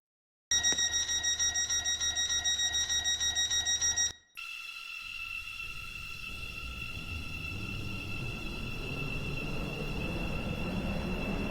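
A video-game passenger train of five coaches runs along the track: a steady electronic tone pattern cuts off, then a smooth rolling rumble with a sustained high whine continues alone.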